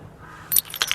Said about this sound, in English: There's my keys.